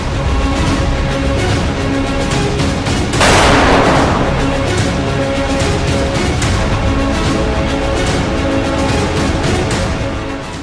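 A Russian tank fires shells from the edge of a forest near Kharkiv in wartime. A single heavy blast bursts out over a dense, continuous roar of battle noise and rumble that fills the whole stretch.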